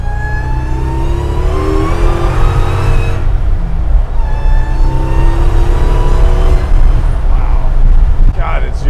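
A 745 hp Hellcat-swapped Chevy C10 revs hard through rising engine sweeps, with a tire burnout roaring beneath, loud and close, the engine climbing twice in long pulls before easing off.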